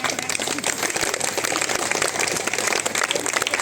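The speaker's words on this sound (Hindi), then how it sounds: "भाई आपकी तालियां बहुत अच्छी हैं" Dense, steady applause fills a crowded religious discourse gathering, many hands clapping at once in a continuous loud wash without a break.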